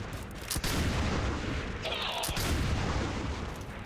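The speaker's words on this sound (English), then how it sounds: "There's the second shot" A ballistic gunshot rings out in XCOM 2, a sharp crack over a continuous loud rumble of battle ambience, followed by a second, softer report, and a voice speaks faintly under it.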